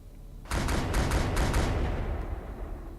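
Starship guns fire in Battlefleet Gothic Leviathan, a sudden loud rapid salvo of clustered shots that settles into a sustained roaring rumble, dense and close with no speech.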